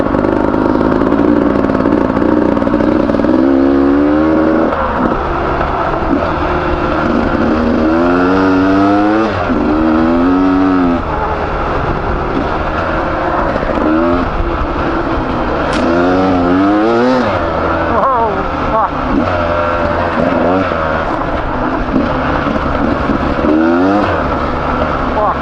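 A motorcycle engine drones loudly and continuously while being ridden, with repeated rises and falls in pitch as it revs through gears, and a voice talking over it.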